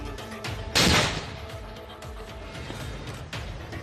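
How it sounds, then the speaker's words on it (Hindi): A bomb disposal squad's controlled detonation of an IED on a road in Baramulla, Jammu and Kashmir, sounds as one sharp, loud blast with a short decaying rumble over outdoor background noise. "बम निरोधक दस्ते को बुलवाया, जिन्होंने बड़ी सावधानी से धमाका करके आईईडी को नष्ट कर दिया"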